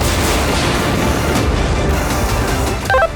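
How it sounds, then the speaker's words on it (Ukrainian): A loud, sustained roar of self-propelled artillery gunfire with booming low rumble throughout, ending in a brief sharper burst. "Гармата постріл!"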